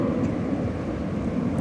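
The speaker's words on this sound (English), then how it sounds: "This will be American Flight 355, an Airbus A321." Broadband roar of an American Airlines Airbus A321 at Dallas/Fort Worth Airport, a steady loud rumble that holds without a break through the short span.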